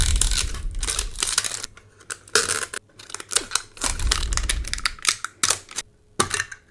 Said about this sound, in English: Let's rip the Umbreon tin.